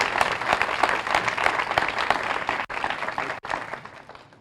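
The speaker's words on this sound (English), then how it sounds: "I would like to have a round of applause for them for their service" A crowd at a July 4 community ceremony gives a steady round of applause, a continuous wash of clapping for several seconds with two brief dips.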